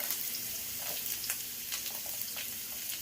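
Onion, garlic and ginger frying in vegetable oil for a shrimp and vegetable stir-fry, a soft steady sizzle with a few light stirring clicks, fairly quiet and without talk.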